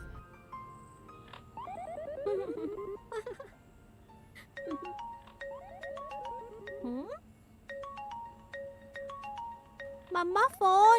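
A melodic phone ringtone plays in a Hindi-dubbed South Indian romantic film, its chiming tones repeating in phrases for several seconds with a soft background hum.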